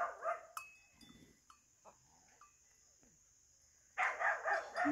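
A small goat kid bleats nearby on a farm in short, high cries at the start and end, separated by quiet with faint rustling.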